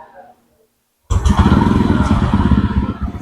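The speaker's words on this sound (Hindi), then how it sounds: "अच्छा, यहाँ से मोटरसाइकिल स्टार्ट हो गई।" A TVS Ronin motorcycle fires up after a moment of silence, the engine catching abruptly and settling into a loud, close, steady idle with a throbbing low rumble.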